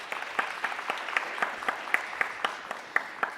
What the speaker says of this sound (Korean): 한 분 한 분 소개해드릴 때마다 큰 박수로 환영해주시면 감사하겠습니다